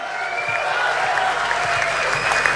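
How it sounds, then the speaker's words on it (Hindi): A crowd applauds steadily, dense clapping filling the whole stretch at an even, lively level. "जोरदार तालियों से इस्तकबाल कीजिए"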